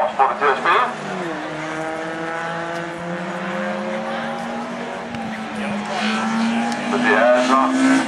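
A Ford Escort rallycross car in a high-powered class races at Ring Djursland, its engine revving and shifting through gears in rising and falling tones close by, while a commentator talks over it.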